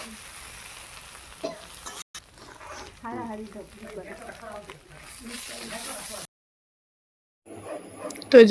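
Potatoes and paneer fry in a village-style wok, a soft sizzle broken by spoon stirring and scraping, beneath someone talking for much of the time, with a brief silent gap before the frying resumes.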